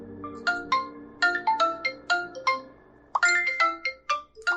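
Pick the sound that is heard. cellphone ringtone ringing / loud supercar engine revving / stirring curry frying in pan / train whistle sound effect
cellphone ringtone ringing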